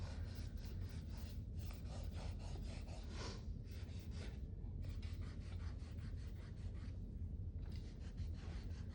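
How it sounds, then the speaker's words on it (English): Steady raspy rubbing of an eraser scrubbing across a pencil drawing, close and continuous with short pauses between strokes, no voices. "I'm gonna pull out my eraser and clean my drawing up a bit"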